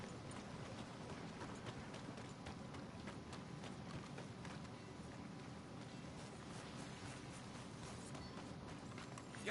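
A horse gallops in Red Dead Redemption 2, hooves pounding in a quick, steady rhythm, faint and muffled beneath low ambient outdoor noise.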